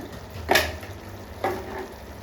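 Chili powder frying in a pan for a cowpea curry: a low steady sizzle broken by two brisk stirring scrapes, close by and with no voices.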